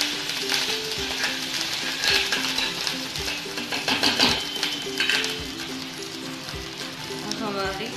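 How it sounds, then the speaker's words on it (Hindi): Butter and ginger paste fry in a pan with a steady, close sizzle, punctuated by the scrape and tap of a stirring utensil, while a voice talks over it. "तो अब हम यहाँ पैन ले रहे हैं, उसमें हम बटर डाल रहे हैं।"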